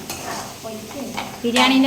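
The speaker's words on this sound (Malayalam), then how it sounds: "ഉള്ളി പൊരിക്കുന്നെന്ന് പറ" Onions sizzle in a pan with stirring clinks and scrapes, the frying growing louder toward the end.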